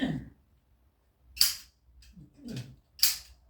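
Two sharp snaps from a toy cap gun firing red caps, about a second and a half apart, close and loud in an otherwise quiet room with brief murmured voices between them.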